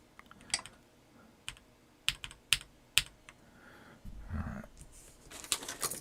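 Scattered clacky keystrokes on a custom-built GAS67 mechanical keyboard, a few isolated presses followed by a quicker burst of typing, close and crisp with faint breathing between.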